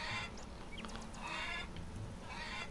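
Chickens cluck quietly in the farm video game Farmer's Dynasty, with scattered short calls over a steady, faint background of farm ambience.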